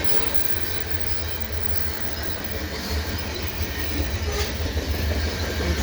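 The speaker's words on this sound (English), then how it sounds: "So I got a via train coming westbound and this CN train eastbound" Via Rail and CN trains pass at Pointe Claire station with a loud, continuous rumble and clatter of rolling cars, building slightly toward the end.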